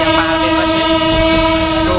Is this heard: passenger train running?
yes